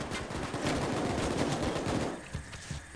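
Dense automatic gunfire in the heist video game Payday 2, a continuous loud rattle of rapid shots that thins out toward the end.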